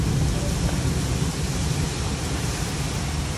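Heavy rain pours down during a tropical-feeling thunderstorm in Houston, Texas, a dense steady roar of rainfall close by with no distinct thunderclap standing out.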